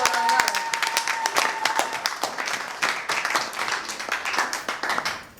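A wedding congregation applauds loudly in praise of the Lord, with dense, steady hand clapping from many people filling the room for several seconds.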